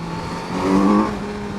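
A 2022 Kawasaki Z900 50th Anniversary Edition revs and accelerates in a short, moderately loud burst that swells then eases, with engine tone rising briefly and no speech.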